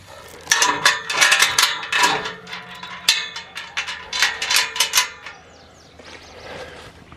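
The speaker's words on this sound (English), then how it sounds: "All right, time to shut this gate here." A metal farm gate is swung and shut at a log home build site, giving a series of close, loud rattling and clanking bursts with creaks and a latch-like clack, then quieter rattles trailing off.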